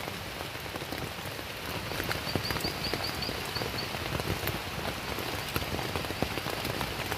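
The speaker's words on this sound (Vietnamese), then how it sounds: "mưa lớn lắm" Heavy rain falls steadily in a forest near a three-tiered waterfall, a dense continuous patter of drops on surfaces that stays loud and even throughout.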